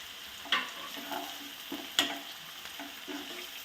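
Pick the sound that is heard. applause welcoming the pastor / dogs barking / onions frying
onions frying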